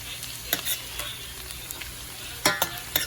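Garlic frying gently in oil in a home kitchen, a steady soft sizzle broken by several sharp scraping stirs of a utensil against the pan, close and with no talking.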